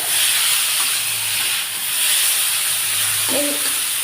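Continuous hissing sizzle of bitter gourd frying in oil in a wok, with a faint low hum and a brief clink near the end.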